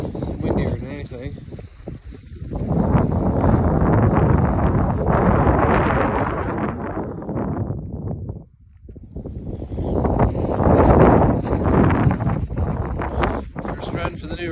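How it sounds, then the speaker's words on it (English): Strong Arctic wind buffeting the microphone while ice fishing, loud roaring gusts that briefly drop off before surging back, with a voice talking under the noise. "It's windier than anything."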